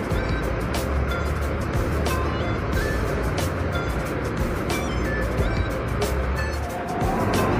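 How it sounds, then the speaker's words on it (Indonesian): A Harapan Jaya bus pulling out of a bus terminal, its engine droning steadily amid busy ambient terminal noise with clicks and rattles, moderately loud. "Dan bus Harapan Jaya berangkat."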